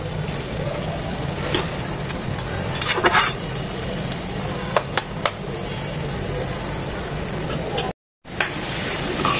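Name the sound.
bathua greens frying and being stirred in a pan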